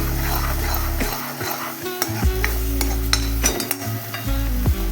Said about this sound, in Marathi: गॅस मोठा केलेला आहे ते वाटण आपल्याला परतून परतून कोरडं करायचं आहे